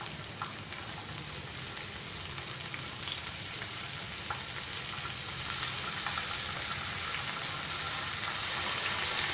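Capsicum and tomatoes fry in a pan for an omelette, a steady close sizzle and crackle that runs throughout with occasional small pops, no voices.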